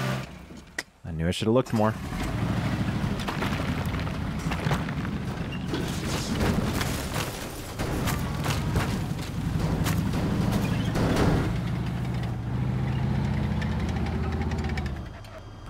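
A tank engine rumbles steadily while driving in Teardown, a low continuous drone with knocking vibration, heard under someone talking.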